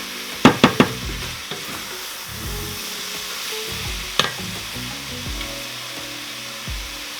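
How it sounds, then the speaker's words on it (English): Spices for chicken fajita soup saute in a pot, giving a steady nearby sizzle with a few sharp clinks and scraping stirs. No one speaks. "So that's why I'm sauteing it before I add it to the soup."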